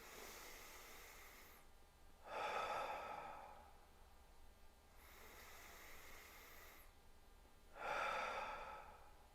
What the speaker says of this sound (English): And if you do the inhale, exhale through your nose, exhale through your mouth, and you do that 3 times